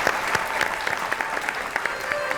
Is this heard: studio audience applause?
yes